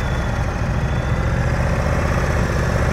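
A motorcycle engine idles steadily during slow-speed riding practice, a close, even low rumble that holds constant without revving, with no talk over it.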